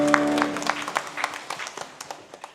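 A church congregation clapping in praise during a Sunday worship service, a fairly steady burst of many hands that gradually thins and fades over a couple of seconds.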